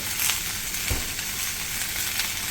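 Tomatoes with tamarind and curry leaves sizzle steadily in hot oil for a fish curry, a dense, close crackling hiss with one brief stir or knock and no talking.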